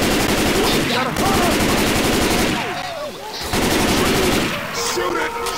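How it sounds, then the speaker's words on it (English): Sustained automatic gunfire in Left 4 Dead 2, loud rapid bursts running almost nonstop with short lulls, while players shout over the shooting. "Shoot it!"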